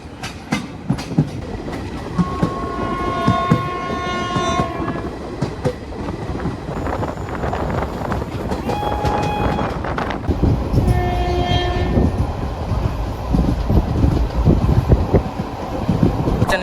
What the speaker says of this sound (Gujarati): આપણે ટ્રેને થોડીક સ્પીડ પકડી લીધી છે